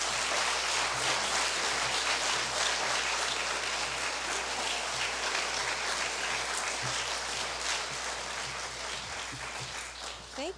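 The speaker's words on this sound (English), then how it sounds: "So let's give her a round of applause." Sustained audience applause at a public event honoring Governor Green, dense steady clapping throughout with a slight fade toward the end.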